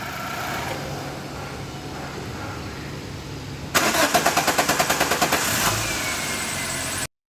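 A Chevrolet Sail engine with a camshaft position sensor fault (code P0343) cranks in a rapid, rhythmic churning for a couple of seconds, then catches and settles into a steady idle over low background noise.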